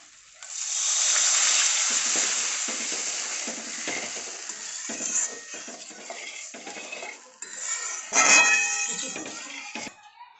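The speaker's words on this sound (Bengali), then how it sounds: "আলুটাও সব মশলার সাথে খুব ভালোভাবে কষানো হয়ে গেছে, এবার এখানে আমি জল দিয়ে দেব।" Water is poured onto potatoes frying with spices in a pan, and the pan answers with a bright hiss and sizzle. Utensils clink and scrape against the pan, and a second loud burst of sizzling comes near the end.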